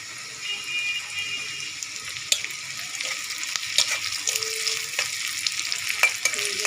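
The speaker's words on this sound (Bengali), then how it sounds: "দিয়ে দেবো কিছুটা পেঁয়াজ কুচানো, হাফ কাপের মতো পেঁয়াজ কুচানো। এবং পেঁয়াজটা ভেজে নেব" About half a cup of chopped onion frying in a pan with whole cumin, a constant crackling sizzle with occasional stirring knocks and a watery hiss, no voices.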